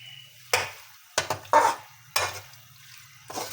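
A utensil mashing and stirring turnip and meat curry in a pot, several separate scraping, squelching strokes close by with short pauses between them, over a low steady background hum.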